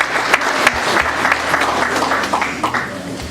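A congregation at a wake gathering in Brussels applauds the Lord, with steady, moderately loud clapping from many hands filling the room throughout.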